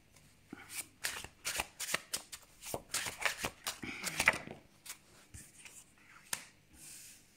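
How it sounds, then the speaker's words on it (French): Slippery tarot cards are shuffled by hand close up, with a quick series of irregular riffling and slapping bursts that thin out toward the end. "J'aime bien ce tarot, mais les cartes glissent beaucoup."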